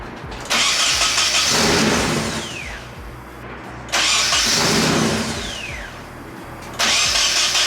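A Nissan 240SX, just repaired for a vacuum leak at the fuel rail, cranks and starts three times in a row, each attempt a loud burst of engine noise that settles briefly before cutting off, with no talking.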